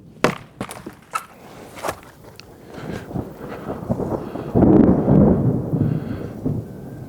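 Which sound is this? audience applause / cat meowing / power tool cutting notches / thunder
thunder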